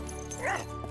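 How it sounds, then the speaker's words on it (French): A single short yip or bark from a cartoon dog, brief and moderately loud over a steady background hum. "Ça, c'est un bon chien!"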